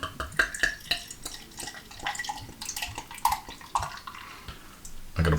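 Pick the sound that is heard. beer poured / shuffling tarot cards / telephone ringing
beer poured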